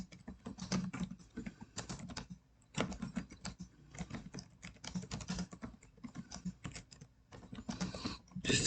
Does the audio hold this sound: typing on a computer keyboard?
yes